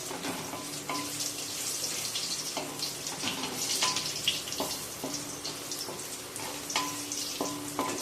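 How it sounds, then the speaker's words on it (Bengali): Potatoes stir-fried in hot oil for a Bengali dudh shukto, a steady close sizzle and frying hiss with repeated scraping stirs throughout, no talk. "আলুগুলোকে একটু তেলের মধ্যে 2-4 মিনিট একটু নাড়াচাড়া করে নেব।"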